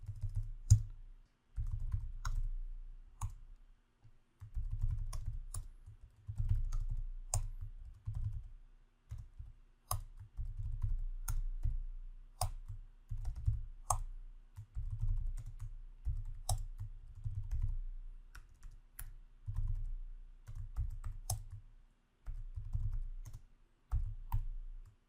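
Typing on a computer keyboard while entering level names and elevations in Revit software, a close, quiet patter of keystrokes in short irregular bursts with brief pauses, with no speech.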